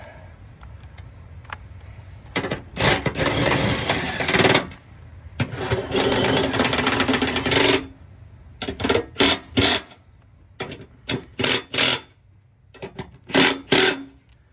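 A power tool tightens bolts on a mounting bracket for a tiny home container office, running in two long loud bursts followed by a string of short, sharp pulses up close.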